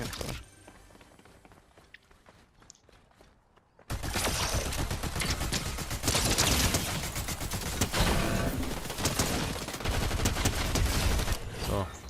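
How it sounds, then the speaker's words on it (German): Gunfire in the video game Fortnite: after a quiet stretch with faint clicks, a dense burst of rapid shots erupts and continues loudly, with repeated sharp cracks layered over heavy noise. "Ich höre Schüsse, hörst du die auch?"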